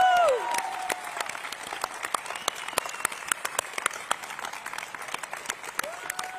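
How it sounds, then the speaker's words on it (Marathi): An audience at a Paani Foundation event applauds a powada performance with brisk, dense clapping that stays loud and continuous from start to finish, with no talk over it. "जोरात टाळ्या."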